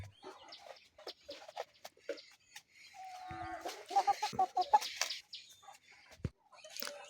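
Aseel chickens on a farm, several close clucks and short calls in quick bursts, with scattered background farm noise and little talk.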